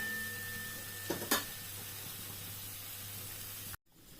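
Stuffed pointed gourd frying in a pan, a soft continuous sizzle with a couple of brief stirring scrapes, then an abrupt cut to quieter sizzling.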